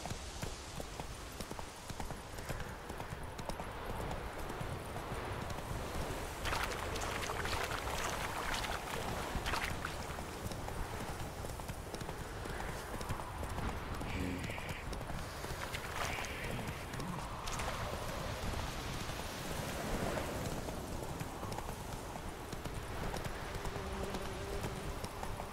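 Horse hooves trot in a steady clip-clop rhythm through The Witcher 3, moving at an even pace over continuous game ambience with faint background sounds.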